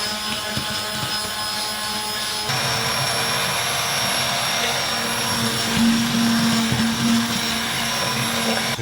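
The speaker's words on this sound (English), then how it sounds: "take the stick blender and just blend this till it's all smooth" A stick blender whirs steadily as it purees a pot of soup until smooth, a loud, constant high motor whine with a slight shift in pitch partway through, and no talk.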